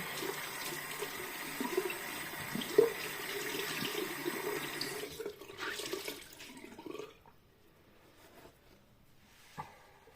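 Tap water runs and splashes into a sink as a face is washed with a washcloth, a faint steady trickle with small sloshes that tapers off toward the end.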